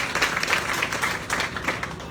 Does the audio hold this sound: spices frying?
no